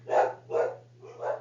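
A dog barks three times in quick succession, short and clear with a steady rhythm and a slight gap before the last bark, set against a faint constant hum.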